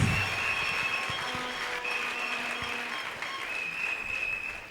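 A church congregation breaks into sustained, dense applause during a French-language service, with steady loud clapping and a few cheers throughout.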